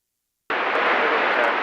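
Delta airliner taking off from runway 30 left at Minneapolis–St. Paul airport, a steady broadband engine roar that starts abruptly and holds constant and loud after a moment of silence.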